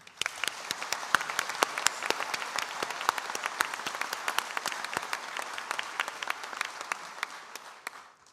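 A graduation ceremony audience at Ulster University in Derry~Londonderry claps together in a dense, steady round of applause with crisp individual claps, holding at an even level before tapering off at the very end.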